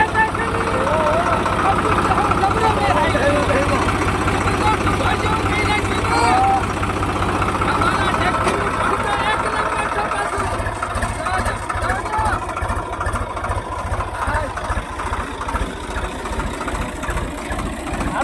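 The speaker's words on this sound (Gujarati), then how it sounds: "ટ્રેક્ટર આવી ગયું" A village tractor's engine arriving, a loud, steady idling rumble that fades slightly and turns choppier toward the end, with people talking over it.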